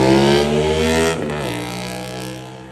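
Loud big motorcycles passing by, a throaty engine roar with a strong harmonic drone that peaks and then shifts pitch downward as they pass, fading gradually.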